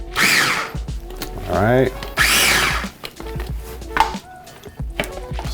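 Chimichurri herbs pulsed in a blender or food processor: several loud whirring bursts with rising and falling motor pitch, separated by short pauses, with a voice speaking briefly between them.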